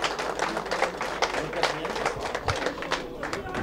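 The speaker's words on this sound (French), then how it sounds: "j'entends des applaudissements" Steady applause from an arena crowd at an Angers versus Istres sports event, dense continuous clapping at moderate distance with crowd noise throughout.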